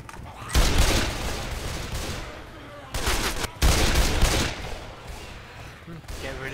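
Sustained gunfire from Left 4 Dead 2 gameplay comes in dense rattling bursts with short pauses between them, loud and close, while players talk over it.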